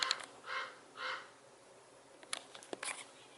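A crow caws outdoors: two broad, drawn-out caws close together at the start, then a few sharper scattered calls later, moderately loud over a quiet background with no talking.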